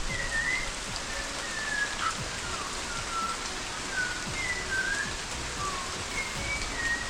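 A bird repeats short, sweet whistled notes again and again, fairly distant in dense forest, over a steady hiss like rain or running water.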